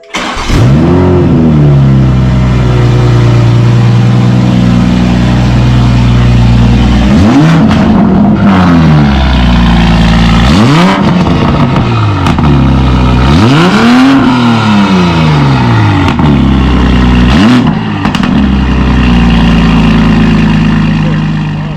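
Toyota Supra Mk5 with a newly installed downpipe, stationary and revved repeatedly: several sharp throttle blips rise and fall between a steady idle, loud and close over about twenty seconds.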